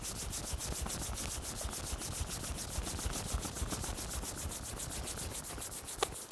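Palms pressed together and rubbed briskly during a yoga practice, a steady rhythmic swishing friction of many quick strokes, close and continuous, ending with a small tap.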